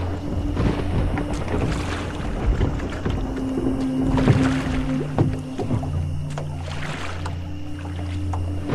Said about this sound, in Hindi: तेज तेज चप्पू चलाने लगा और नाव आगे बढ़ने लगी